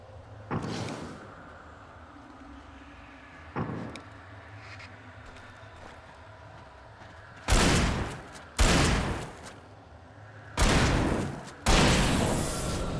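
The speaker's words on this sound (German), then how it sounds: "Vier Schuss nur." Gunfire in the video game Alan Wake: two fainter shots, then four loud, booming shots in two quick pairs, each ending in a brief decaying tail.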